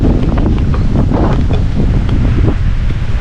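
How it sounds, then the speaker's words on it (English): A violent wind gust from an early November storm roars and buffets loudly and continuously, with heavy rumbling turbulence throughout. "Holy crap, that was a violent wind gust."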